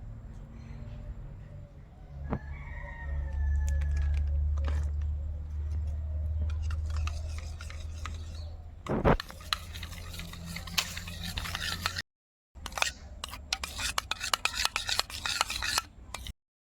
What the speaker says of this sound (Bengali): আর টক দইয়ের মধ্যে আমি লবণ আর হলুদ মিশ্রণ করে নেব